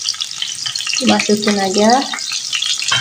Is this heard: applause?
no